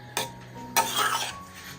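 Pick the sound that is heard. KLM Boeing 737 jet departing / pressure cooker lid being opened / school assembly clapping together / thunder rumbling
pressure cooker lid being opened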